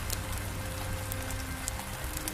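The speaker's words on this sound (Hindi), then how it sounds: "ये बारिश कुछ ज्यादा ही तेज हो रही है।" Heavy rain pours down without a break, a dense, close hiss of drops striking surfaces with scattered louder splats. No voices are heard.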